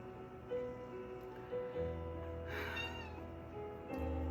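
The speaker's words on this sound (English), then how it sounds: "My cat." A house cat meows several times in a quiet indoor room, the cries moderately close and rising over a low steady background hum.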